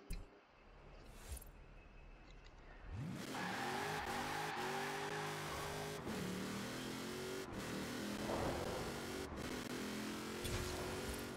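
A Mosler car engine in the video game Forza Horizon 4 starts from a quiet idle and then revs hard and accelerates, its pitch climbing through repeated gear shifts, loud and close, sustained to the end.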